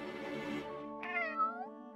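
A cartoon kitten from Tom & Jerry gives a close, clear meow, a drawn-out cry followed by a shorter rising mew, with no talking.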